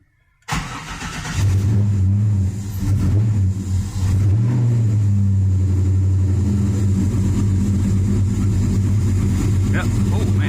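A Chevy S10 with an LS-based 383 stroker V8 cranks and catches on a cold day, then settles into a loud, steady, lumpy idle with brief revs near the start.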